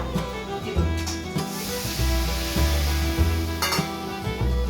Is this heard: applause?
no